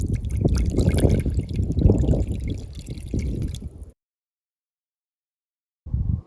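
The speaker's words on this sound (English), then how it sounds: "we are going to slowly pour that on the ice" Hot tap water poured slowly onto ice in a frozen sump pump discharge pipe, a steady close trickle and gurgle for several seconds, then silence before a brief splash resumes.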